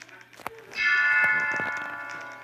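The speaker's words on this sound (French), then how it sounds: "On va sonner les cloches." A bright, ringing church bell tone in a video game swells in and sustains with rich overtones, slowly decaying, preceded by a few soft clicks.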